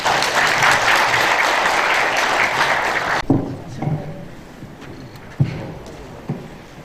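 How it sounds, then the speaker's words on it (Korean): Applause from a Korean academic forum audience, the 2022 Yeongcheon military history forum, honoring four professors: dense clapping fills the first three seconds, then cuts to quieter room noise with a few isolated knocks. "네 분의 교수님들에게 다시 한번 큰 박수 부탁드립니다."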